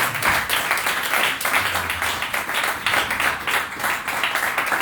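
A church congregation at a thanksgiving service claps together in steady, quick rhythm, a dense burst of hand claps heard throughout with little talk.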